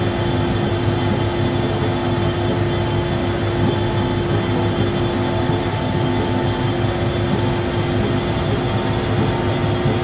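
Inside an Embraer E145 cruising in the X-Plane 11 flight simulator, a steady cockpit engine drone and tonal hum runs unbroken, loud and constant, with no talking.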